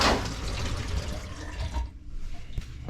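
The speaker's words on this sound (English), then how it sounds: "To let the water out, just press on that stopper and the water will drain out" Water draining from a bathroom sink after the pop-up stopper is pressed, beside a newly installed Moen 84577BL faucet, a steady close gurgling rush that thins and fades toward the end.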